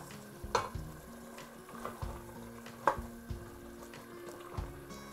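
Washed lentils are turned through a sizzling pan with a spoon, a quiet, moderately close sizzle punctuated by several soft scraping and tapping strokes at an uneven rhythm.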